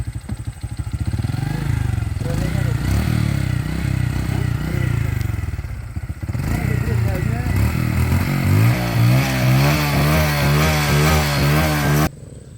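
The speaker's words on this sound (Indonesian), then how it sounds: "Oke, motor kembali ready beroff-road Ria." An off-road motorcycle engine runs loudly and close, revving unevenly with rising and falling pitch, amid scraping and clattering on rough ground near water, with people talking over it.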